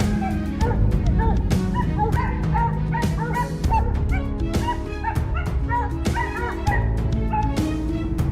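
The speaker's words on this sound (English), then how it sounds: "The distant barking of our dogs echoed through the forest" Hunting dogs barking repeatedly in a forest during a wild boar hunt, a busy run of yips and bow-wows over a steady dense background, fairly loud and continuous.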